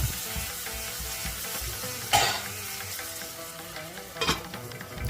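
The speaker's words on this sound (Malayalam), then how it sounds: "ഇനി ഇത് നമുക്കൊരു പതിനഞ്ചോ ഇരുപതോ സെക്കൻഡ് നേരം ഒന്ന് വഴറ്റിയെടുക്കുക" Chili powder and turmeric sauté in hot oil for pea kurma, with a steady sizzle and stirring, plus two sharper clinks of a utensil against the pan.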